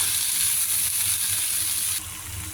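Capsicum curry with ginger and green chilli sizzles in a pan, a steady close hiss of frying that drops slightly in loudness near the end, with no talking.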